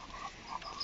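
A Labrador makes short, raspy, throaty wheezing noises close by, a few rough bursts in quick succession.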